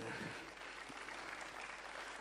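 Audience applause at an outdoor public debate at the Versiliana festival, a brief stretch of continuous hissy clapping, fairly faint and distant.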